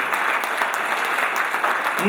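A crowd at a live Urdu poetry mushaira in Melbourne applauds loudly and steadily, a dense wash of clapping hands that continues throughout without pause.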